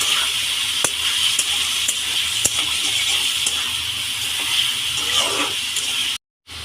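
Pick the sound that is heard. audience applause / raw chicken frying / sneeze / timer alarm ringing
raw chicken frying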